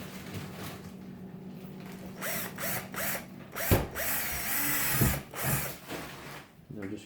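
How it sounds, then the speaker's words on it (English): Power drill boring through the plastic hinge area of a broken laptop, a few whirring bursts with ratcheting chatter, close and moderately loud against room noise. "I'm just going to drill right through"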